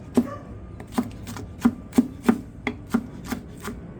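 A knife chopping apple and fennel on a cutting board: about nine sharp, distinct chops at an uneven, unhurried pace, close and alone.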